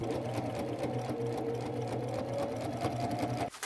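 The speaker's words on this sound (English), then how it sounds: "I am just going to sew a straight stitch about 1/8 of an inch away from that seam" Sewing machine running a straight stitch along a jeans seam, a steady close whirring hum with rapid needle rhythm for over three seconds before stopping abruptly.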